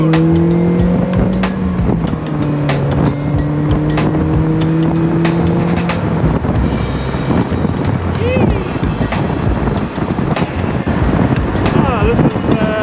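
A Mazda Miata on a bumpy country road produces a loud, continuous engine drone that rises and falls with gear changes, mixed with heavy road and wind roar throughout.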